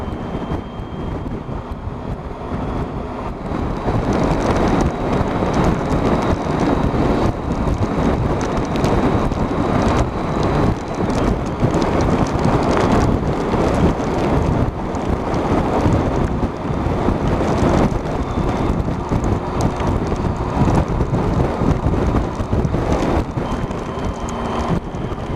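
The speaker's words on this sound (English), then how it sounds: "Let's go up a mountain in a howling gale and pissing rain." A howling gale with heavy rain buffets a Triumph Tiger 1050 Sport motorcycle climbing a mountain road, making a loud continuous roar and rush of wind noise that thickens after a few seconds and holds steady.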